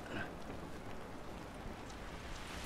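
Steady rain falls in The Last of Us video game, a faint, even hiss of drops on surfaces continuing throughout with no other sounds.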